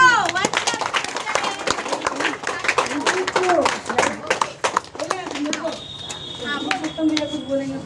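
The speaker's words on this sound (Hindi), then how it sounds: "ताली बजाओ।" Students clapping in a classroom, bursts of quick, uneven handclaps close by, mixed with children's voices and chatter, settling down toward the end.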